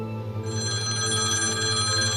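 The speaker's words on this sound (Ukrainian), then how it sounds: "коли телефон дзвонить, я завмираю" A telephone bell rings in a continuous rapid trill, fairly close and clear, with no voices.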